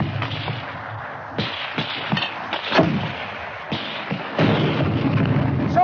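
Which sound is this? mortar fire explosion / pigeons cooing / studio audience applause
mortar fire explosion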